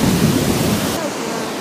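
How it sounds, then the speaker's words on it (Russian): A waterfall and flowing river in Abkhazia roar as a loud, broad rushing wash, close and continuous, with the bright spray component dropping away near the end. "Водопад!"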